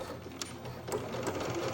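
A domestic sewing machine runs a lengthened straight stitch in a steady whirring chatter, with a few sharper clicks along the way, close and fairly quiet, and no voices.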